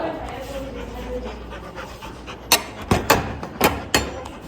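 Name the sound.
dog barking and panting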